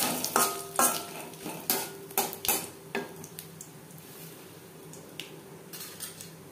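Dried red chillies, whole cumin and a bay leaf frying in cooking oil for a vegetarian moong dal, with close metallic scrapes and taps of a spoon in the pan over a soft sizzle, loud at first then tapering off.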